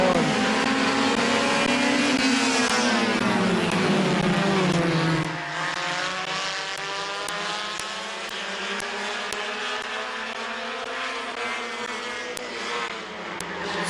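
Compact division race cars at Midvale Speedway roaring past, engines rising in pitch then dropping as the pack sweeps by, loud and sustained with a steady drone after.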